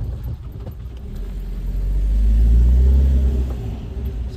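A car engine rumbles and rises in a low swell as the vehicle pulls away from a village, close and steady with no talking.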